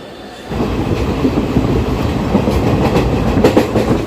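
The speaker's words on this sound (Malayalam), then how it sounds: "ട്രെയിൻ യാത്ര എന്തല്ലേ" A passenger train in Kerala running on rails near Kollam, heard from inside as a loud, steady rumbling roar with rhythmic clickety-clack of wheels over joints, constant throughout without talk.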